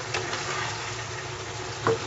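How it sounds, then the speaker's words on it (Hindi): Ridge gourd (turai) cooks in oil in a pan with a steady, soft sizzle and faint bubbling, continuous and close, with one small clink of a spoon near the end. "ऑयल ऊपर आने तक हम इसे भूनेंगे।"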